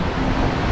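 Surf washes in at Lagenda Beach in Pekan, Pahang, Malaysia, a continuous low rumble of waves mixed with wind noise on the microphone.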